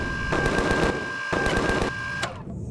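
Rapid automatic gunfire in the sci-fi survival game Empyrion, two sustained bursts of close, loud shots with a steady electronic tone running underneath and a brief gap between them.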